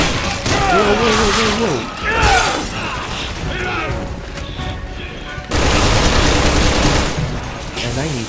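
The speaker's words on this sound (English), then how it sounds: "Time to use my gun." A gun fires in Resident Evil 6 co-op gameplay, making a busy, repeated run of shots and impacts mixed with game effects. A man exclaims once over the noise.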